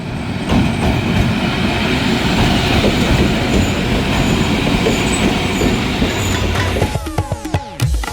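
Trains rolling through Jhelum railway station during the morning rush, a steady rumble of rail cars and wheels running for most of the stretch, then sharp metallic wheel squeals and clanks near the end, with no talking.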